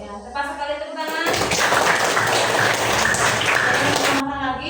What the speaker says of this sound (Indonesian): Ya, tepat sekali, tepuk tangan.